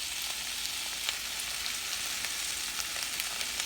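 Okra frying in a home kitchen pan for smothered okra with shrimp, a steady, close hiss of sizzling oil with faint crackles and small pops running throughout, no voices.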